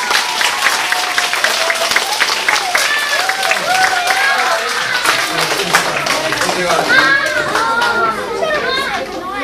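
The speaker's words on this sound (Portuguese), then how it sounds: "Uma salva de palmas também" Schoolchildren in a first-grade class clap for a visiting writer, a steady, close patter of small hands mixed with excited children's voices and chatter throughout.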